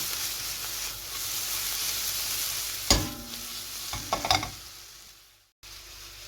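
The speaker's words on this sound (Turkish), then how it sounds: "Evet, şimdi son bir kere karıştırdık." Onions and mushrooms frying in a pan sizzle quietly, broken by a few sharp stirring scrapes and clatters of a utensil, then a short silence before the sizzle resumes; no one talks.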